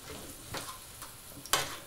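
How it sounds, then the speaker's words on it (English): Ingredients are stirred in a hot pan, a faint sizzle under soft scraping strokes of a utensil, ending with a sharp metallic clink. "What you're going to do now is just stir this in, like so, just increase the heat a little bit."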